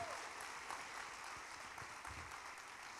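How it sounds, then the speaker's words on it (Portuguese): Steady crowd applause in a church service, fairly faint and distant, continuing evenly for a few seconds with no talking over it. "dá uma salva de palmas para Jesus"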